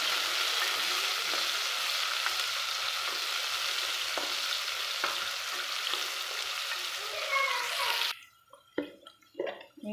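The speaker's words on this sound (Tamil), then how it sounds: "நல்லா வதக்கிக்கலாம்." Chopped onions sautéing in a pan with fennel seeds and three green chillies, a steady hot sizzle with occasional stirring scrapes that cuts off abruptly near the end, leaving a few sparse clinks and taps.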